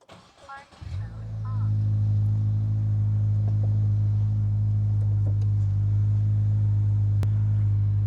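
A 2025 Subaru WRX tS Spec B engine cranks and fires up, settling into a loud, steady low idle rumble close by after a brief burst of noise, with a faint click near the end.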